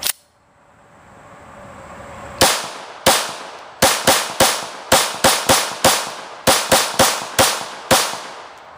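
A Glock 22 pistol fires a full magazine of sharp, loud gunshots, about fourteen reports in an uneven, fairly quick rhythm, close by and with no talking over them.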